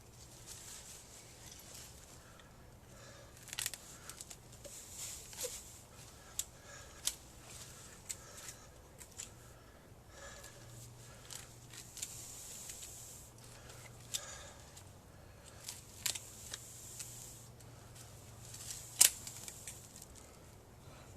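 Shears cut away the roots of a large Podocarpus being pruned for future bonsai, giving faint, scattered snips and small clicks over a quiet background, with a sharper cut near the end.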